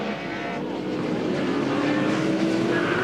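A 2004 Supercars V8 touring car at Eastern Creek runs over a ripple strip, its engine roaring loud and steady with a rising pitch while a rattling buzz comes through under the drone.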